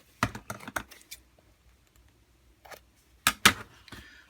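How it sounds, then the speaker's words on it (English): Scissors snip through paper close up in a few quick bursts of crisp cuts, separated by short quiet pauses. "So I just take my scissors and cut up to the first line"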